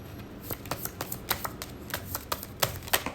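Tarot cards are shuffled by hand, giving a quick series of crisp riffling snaps and flicks at an uneven rhythm, close and fairly loud, with no talk.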